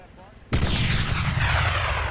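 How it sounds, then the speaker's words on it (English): A TOW missile round hits and blows up a church in a military video game, a sudden loud blast after a quiet moment that rolls on as a long, heavy rumble. "put a fucking tow round right through it"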